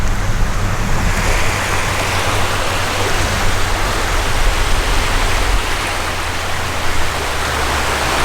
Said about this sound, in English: Nice beach here.